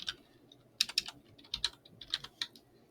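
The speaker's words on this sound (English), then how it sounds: "just type in the category" Quick, light keystrokes on a computer keyboard as a short word is typed, a brief irregular burst of crisp clicks, near and fairly quiet, with no talking.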